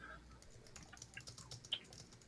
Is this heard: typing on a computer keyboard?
yes